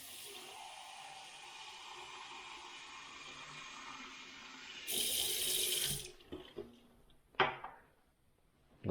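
Tap water runs steadily from a faucet with no filter into a clear glass, a broad hiss that swells louder as the glass fills, then cuts off, followed by a few faint clinks and drips.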